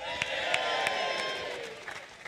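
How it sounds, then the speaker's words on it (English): A studio audience at a live sports talk show in the O2 applauds a rugby player's arrival with a brief burst of clapping and light cheering, with sharper individual claps standing out before it thins. "Ladies and gentlemen, big round of applause."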